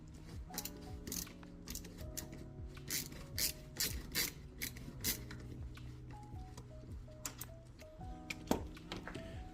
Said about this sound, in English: if you have a ratcheting driver in a stationary position